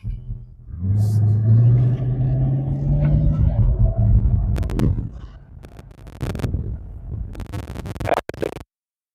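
V8 race car engine idling and revving, a deep, loud rumble up close that swells and holds, then breaks into scraping, rattling noises before cutting off abruptly.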